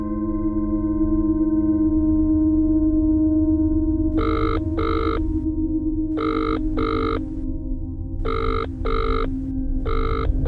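A telephone rings in paired electronic bursts, three double rings spaced evenly, loud and clear over a steady low hum.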